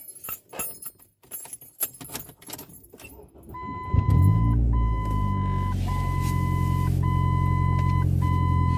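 A 2005 Ford Focus ZX4 fitted with a new aftermarket muffler starts and idles, settling into a steady, close, throbbing exhaust drone after some clicking and key jingling at the start.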